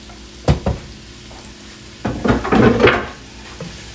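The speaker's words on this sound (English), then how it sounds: "I'm gonna saute these up" Oxtail ingredients going into a pan to sauté: a couple of sharp clanks, a brief pause, then a burst of hissing sizzle with stirring that fades out after a second or so.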